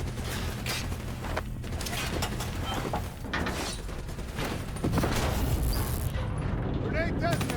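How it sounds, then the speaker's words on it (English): A grenade detonating in Call of Duty: Black Ops III, a loud, heavy blast with rumbling debris and mechanical clatter, set among dense battle noise and voice radio chatter. "Grenade detonated."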